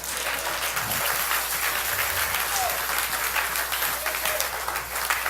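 A crowd at a church worship service claps and cheers continuously, a full steady wave of applause with no break.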